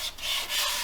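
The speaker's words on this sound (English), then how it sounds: "scuff sand it a little bit" A custom guitar coated in dried sanding sealer is scuff-sanded by hand with a fine mesh pad, giving a brief, close, dry rubbing swish in a couple of quick strokes.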